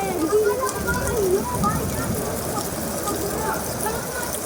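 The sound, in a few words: rain falling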